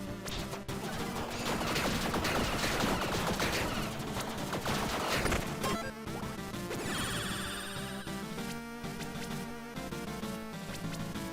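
Enemy laser fire in the roguelike game Tiny Rogues: a dense, loud barrage of rapid zapping shots and bursts layered over busy game music and effects, followed by a rising sweep of electronic tones, with no talking.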